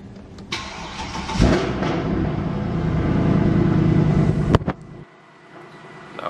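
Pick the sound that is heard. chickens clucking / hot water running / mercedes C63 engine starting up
mercedes C63 engine starting up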